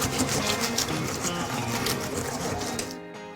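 A mixer grinds pretzels and potato chips into cookie dough with a steady whirring, rattling churn that cuts off abruptly near the end.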